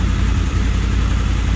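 A Honda VFR800 motorcycle engine idles steadily at a high idle of about 2000 rpm, a loud, continuous low rumble with no breaks.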